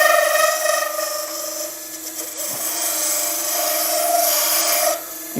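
A wood lathe turns a blank of epoxy and timber while a skew chisel cuts it, making a loud, steady whirring hum with scraping and rasping from the tool. It runs nearly unbroken and ends with a brief dip near the end.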